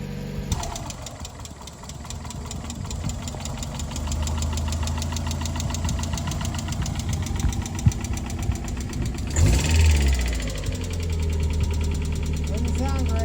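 A Mazda Miata engine runs on a test drive with a steady mid-pitched drone and knocking tone, rising in a brief surge near the end, while people talk faintly over it.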